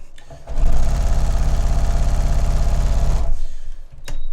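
A sewing machine runs close and loud stitching quilt block pieces for a black polygon block, a fast even rapid chatter of the needle lasting a few seconds before slowing and stopping, followed by a small click.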